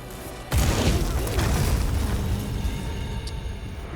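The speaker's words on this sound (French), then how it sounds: "Une explosion." A sudden heavy boom from an explosion in the video game Monster Hunter Wilds bursts in after a short quiet moment, then rumbles on as a loud, sustained crackling roar that slowly fades, with no voices.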